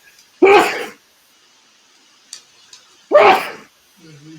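Two loud, close sneezes about two and a half seconds apart, each a sharp burst, with faint clicks between and a short murmur of voice at the end.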